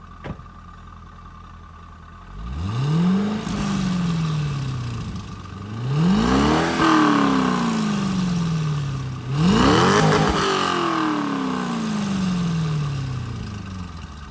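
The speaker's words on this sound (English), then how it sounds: "So you guys have heard the exhaust" A C5 Corvette's engine revs hard three times through its exhaust, each surge rising sharply then easing back toward idle, loud and close with no talking.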